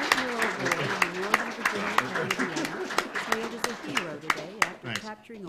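Applause from an audience at a SummerFest 2001 event, a patter of scattered claps running under a person speaking throughout.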